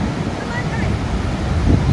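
Horseshoe Falls at Niagara, seen from the Canadian side: a dense, steady roar of falling water blending into a broad rush, loud and unbroken, with faint crowd murmur beneath.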